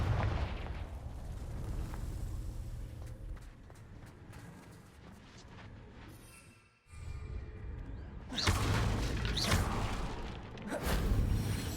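Explosions from the Confringo blasting spell in the Hogwarts Legacy video game: muffled rumbling blasts, then a sharp silence before two loud, bright bursts boom out near the end.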